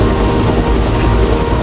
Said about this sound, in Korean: 최대한 가깝게 헬기를 세워놓고 구조대원 조비가 출동합니다.